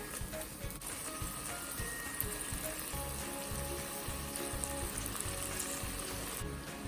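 Green chillies and curry leaves frying in a pan for a Kerala-style beef curry give a soft, continuous sizzle with faint stirring, quiet and steady, with no one talking.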